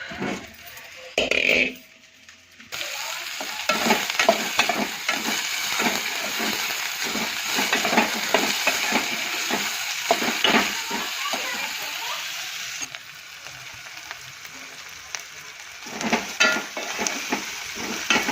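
Steady sizzling of onions frying in a pan for an onion-tomato curry, with scraping stirs throughout and someone talking over it.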